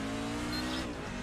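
NASCAR race cars at a USA International event roar steadily on track, a dense continuous engine drone with a sustained tone and faint tire noise, loud and unbroken without talk.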